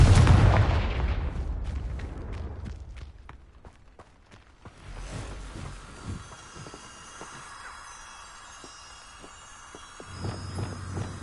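Confringo blasting spell in Hogwarts Legacy, a heavy explosive burst at the start decaying into a rumbling tail, followed by a series of sharp cracking impacts and a low rumble toward the end.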